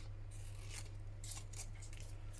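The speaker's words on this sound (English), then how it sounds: "let's get rid of this top where it's white, trim down the side here" Scissors snip and rasp through paper flower ephemera for a craft journal, a few quiet cuts spread across the moment over a steady low hum, with no talking.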